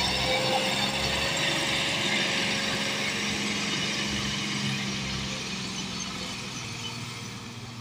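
A Massey Ferguson 260 turbo tractor labours up a slope hauling a loaded trolley, its steady, loud mechanical drone rattling with a ratchet-like clatter that eases off slightly toward the end.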